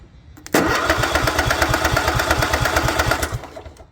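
A Craftsman lawn tractor engine cranks without firing, a loud rhythmic chugging of the starter that runs for about three seconds up close before cutting off.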